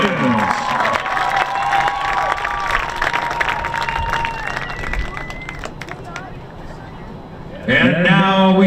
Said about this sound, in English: Please give one more round of applause for all of our second team All-State